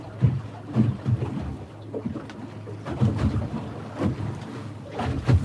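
Water laps against a boat near the wrecked cargo ship Golden Ray, an irregular, close sloshing of waves with low rumble and occasional knocks against the hull.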